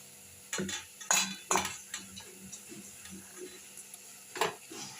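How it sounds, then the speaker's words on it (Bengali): A utensil stirs spinach paste and grated radish in a pan, giving several sharp scraping and clinking strokes at irregular intervals over a quiet background. "দিয়ে নেড়ে নেব এইভাবে"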